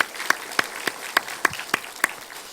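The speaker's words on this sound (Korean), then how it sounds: "다시 한번 우리 하나님의 영광에 박수 올리겠습니다." A church congregation at a Sunday morning service claps in a slow, even rhythm, about eight sharp, separate claps spaced steadily apart, moderately near and with no talking over them.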